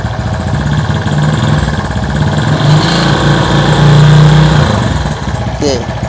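Motorcycle engine idling close by and rising into two brief revs as the throttle is twisted during a battery charging check, while someone talks over the steady running engine.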